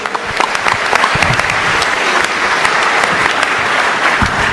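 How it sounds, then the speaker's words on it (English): An audience applauds sheriffs from Lassen County and other counties at a public event, with dense, steady clapping from a large crowd that carries on throughout. "Give them a round of applause."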